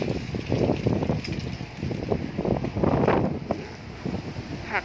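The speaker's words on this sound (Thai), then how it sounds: "ลมแรงมากเลยค่ะ" Strong gusts of wind sweep through a vegetable garden during a rainstorm that flattens the plants, buffeting the microphone with loud, uneven roaring surges that rise and fall close by.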